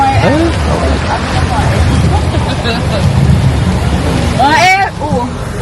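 Steady rain pours down on a roadside where a vehicle has broken down, a dense hiss under voices talking nearby, with a loud, rising wavering call near the end.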